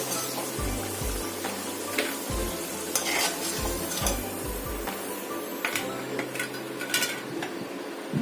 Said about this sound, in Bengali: ঠিক এইভাবেই আমি কাঁকরোলগুলোকেও ভাজবো।